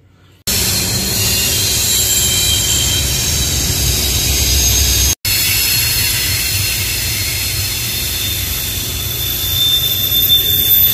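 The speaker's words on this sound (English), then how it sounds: "Got the new exhaust put on." A vehicle engine idles steadily with a newly installed exhaust and bully exhaust tip, a loud low rumble with hissy top end running continuously after a brief quiet start, cut by a momentary dropout midway.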